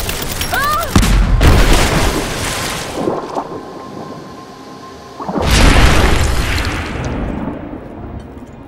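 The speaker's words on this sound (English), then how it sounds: "Throw the grenade." Grenade explosions in the video game Rise of the Tomb Raider: two heavy, loud booms, one near the start and one later, each followed by a long rumbling, crackling decay.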